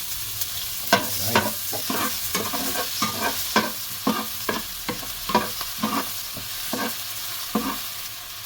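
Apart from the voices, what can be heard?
garlic frying and being stirred in a pan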